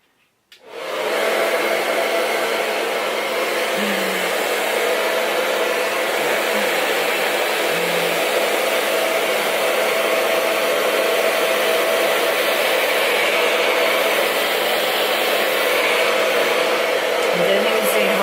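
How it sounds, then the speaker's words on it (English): A handheld blow dryer drying hair freshly coated with rose gold temporary hair makeup runs as a loud, steady whoosh from start to finish after a quick start-up, with no talking over it. "let's try this again with the blow dryer"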